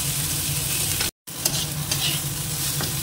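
Spice paste fries and is stirred in a pan, a steady close sizzle with scraping stirs, broken by a brief silent gap before the frying resumes.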